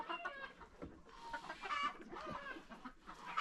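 A farm flock of hens and roosters, with new young pullets mixed in, keeps up a fairly faint, continuous chorus of clucks and calls, with no one speaking.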